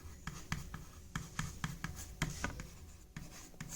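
A pen writes a maths solution on paper, giving close, quiet scratching strokes with a tap-like rhythm of short marks and brief pauses, with no talk.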